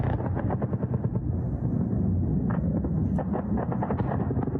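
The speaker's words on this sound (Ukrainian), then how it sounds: "Відео з яскравими спалахами над портом та звуки хаотичної роботи ворожої ППО" Dense, rumbling bursts of distant air defense gunfire over a port at night in Krasnodar region crackle continuously with heavy low-end noise, rapid overlapping shots and booms filling the air without pause.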